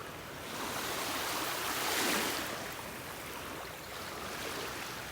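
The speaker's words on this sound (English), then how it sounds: "Little tiny waves here lapping on the shore." Small gentle waves lap on a beach shore at North Naples, Florida, giving a soft, continuous wash that swells briefly in the middle and settles again, faint and even with no voices.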